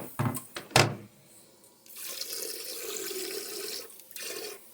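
Water hisses steadily from a toilet bidet sprayer for a few seconds after a couple of sharp knocks, fairly close and continuous before briefly cutting off.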